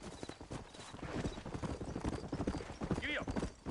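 Horse hooves gallop in Red Dead Redemption, rapid repeated clip-clop beats close by, with a horse's whinny near the end and a voice speaking over the hoofbeats.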